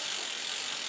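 A bicycle bottom bracket is turned by hand during adjustment, giving a steady, close, fairly loud ratcheting clicking that runs without a break for the whole moment, with no voices.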